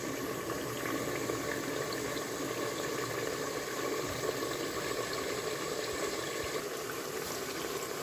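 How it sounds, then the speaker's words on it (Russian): Steady low rushing and bubbling of water heating in a kettle, continuous and even throughout with no voices. "Вода кипятится у меня в чайнике"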